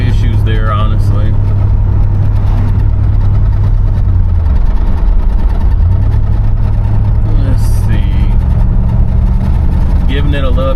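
A 1989 Cadillac Brougham engine hums loud and steady while driving as the throttle is eased on, the drone rising and falling slightly, with someone speaking over it throughout.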